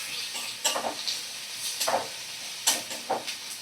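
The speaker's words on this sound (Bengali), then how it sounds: "তো পেঁয়াজটাকে আমি ভালো করে ভাজা করে নেব" A medium-sized sliced onion frying in a wok for a Bengali fish and eggplant dish, a soft steady sizzle broken by several sharp bursts of stirring and spitting oil, close and fairly quiet.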